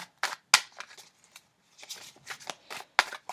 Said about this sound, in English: I just like people to see the shuffling